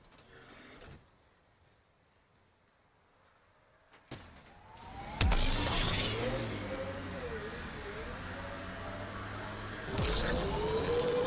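A vehicle in Mass Effect Andromeda starts up after a quiet stretch, then a steady engine drone with whining, shifting tones runs for several seconds, growing louder near the end.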